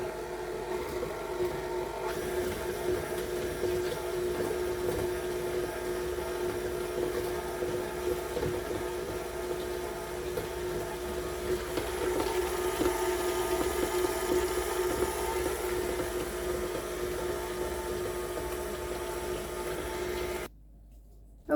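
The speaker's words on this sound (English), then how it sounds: "Okay, so now I'm just going to puree it. Start slow so it doesn't fly out of the KitchenAid." A KitchenAid stand mixer purees mango in a steady, continuous motor whir that holds a constant drone for about twenty seconds, then cuts off abruptly near the end, with no talking.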